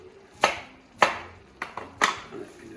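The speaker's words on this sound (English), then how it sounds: "Chop that down a little bit" Four sharp knife chops through small Chinese cabbage on a cutting board for beef chow mein, evenly spaced, crisp and close, with quiet kitchen background between strikes.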